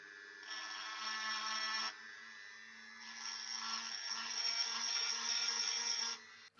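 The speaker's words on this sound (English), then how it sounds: "I used a grindstone in the Dremel to very carefully grind away all of the sharp edges." A Dremel rotary tool with a grindstone grinds away sharp edges inside a glass light bulb, a steady high whine in two long bursts with a brief lull between, fairly close and with no talking.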